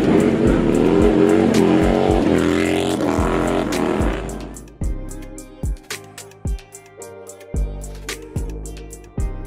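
A car engine at a Labor Day motorcycle club gathering revs hard, then drops into a series of sharp, choppy blips and bursts as the clutch is worked, loud and close.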